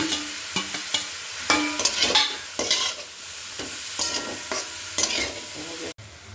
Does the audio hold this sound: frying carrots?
yes